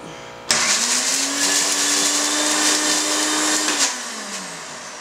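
Mixer grinder whirs into life with a sharp start, holds a loud, steady high-pitched motor drone while grinding in its jar, then winds down near the end.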